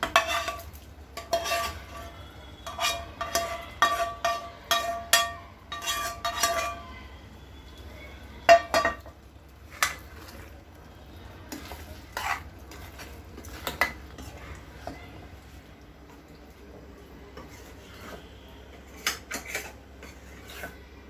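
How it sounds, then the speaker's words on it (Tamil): Mushrooms stirred into a red pasta sauce mixture in a pan: a utensil repeatedly scrapes and clinks against the metal pan in irregular bursts, over a faint low hum, with no talking. "இப்போ இந்த காளானை நம்ம இந்த கலவைக்குள்ளே மிக்ஸ் பண்ண போகிறோம்"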